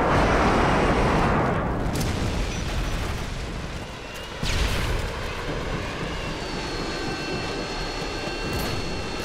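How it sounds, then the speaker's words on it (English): Harrier jet strikes in Call of Duty Modern Warfare, a heavy roaring explosion burst followed by a sustained rumbling blast wash and a second loud impact, with jet engine noise and crackling debris lingering beneath. "Friendly Harriers inbound."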